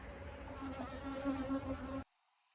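Honey bees swarm around beehives at an apiary in a dense, steady, close buzz that cuts off abruptly after about two seconds.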